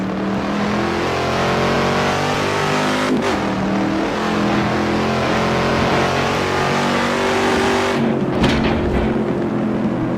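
A Camaro driving fast on a wet road, its engine holding a steady loud drone with a couple of sharp shifts or bumps, tire hiss underneath, no talking.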